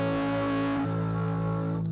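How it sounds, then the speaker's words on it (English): A saturated vocal track soloed in Cubase with a harsh distortion effect plays as a sustained, buzzy, gritty sung tone that shifts pitch midway, loud and without any spoken voice. "if I select the saturated track for both of those options and solo it, there's the distortion."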